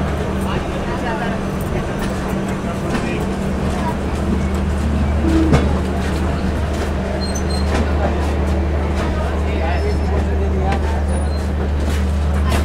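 The Rajdhani Express rolls on after leaving New Delhi, a constant low rumble and hum of the moving train that continues evenly throughout, with faint voices at times.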